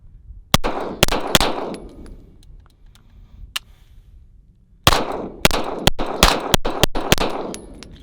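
Springfield Armory Prodigy 5-inch pistol fired at an outdoor range, sharp loud shots in two clusters of rapid strings separated by a pause, with ringing metallic echoes trailing each burst.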